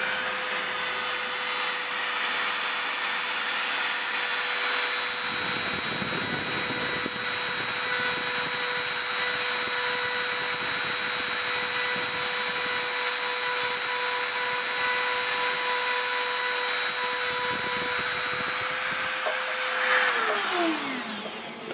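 A handheld Dremel fitted with an engraving tip whines at a constant high pitch as it engraves the back of an earring, loud and unbroken for about twenty seconds before spinning down at the end, with no talking.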